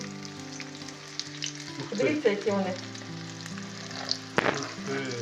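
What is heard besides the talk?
breaded zucchini frying in pan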